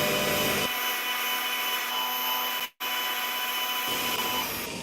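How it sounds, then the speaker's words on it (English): A wire buff wheel grinds surface rust off a metal piece as it is moved back and forth, a loud steady rasping whine with a brief cutout partway through, heard close and alone. "I'm just moving this backwards and forwards as I go on the wire buff"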